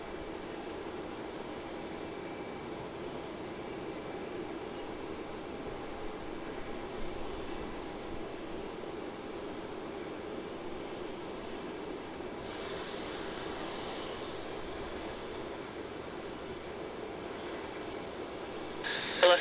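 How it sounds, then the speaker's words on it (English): A Japan Airlines Boeing 787 arriving from Tokyo on landing approach at Melbourne Airport gives a steady, broad jet roar that holds at a fairly even level throughout, with a slight brightening near the end. "this is going to be the Japan Airlines 7878 coming in from Tokyo"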